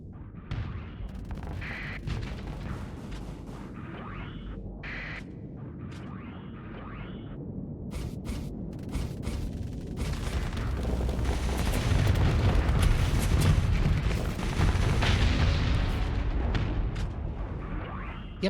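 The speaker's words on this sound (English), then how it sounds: "Let's launch some missiles at that." Missiles launched at ships in the video game Starsector, a run of booming launches and impacts with rapid gunfire-like bursts that build into a louder, sustained barrage in the latter half.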